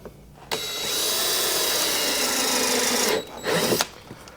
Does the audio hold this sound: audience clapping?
no